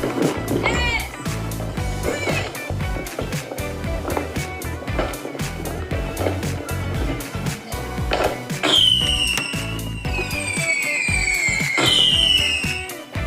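A Legendary Fireworks 50-shot cake fires a rapid volley of sharp bangs that crack repeatedly in quick succession, loud and close, with whistling shots rising near the end.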